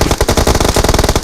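Loud, close automatic cover fire in a BGMI/PUBG match, a rapid unbroken stream of gunshots at a steady fast rhythm.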